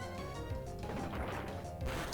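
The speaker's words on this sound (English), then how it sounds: "so we're just going to start Rock Smashing." Rock Smash breaking rocks in Pokémon Renegade Platinum, a run of repeated crunching smash impacts about every half second amid dense game music, with no talking.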